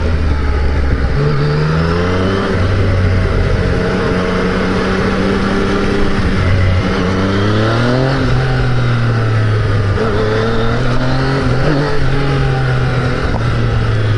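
Engine of a Yamaha FZ-09 motorcycle on a test ride, droning loudly and steadily up close with wind noise, its pitch dipping and climbing through several gear changes, with no talking.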